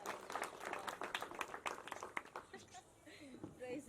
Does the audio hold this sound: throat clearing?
no